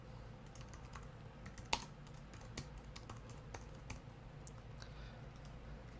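Quiet, steady typing on a computer keyboard while entering text into presentation slides, a run of soft, irregular key clicks with one sharper tap, close and alone with no talk.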